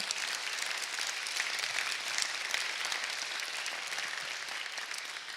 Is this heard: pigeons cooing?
no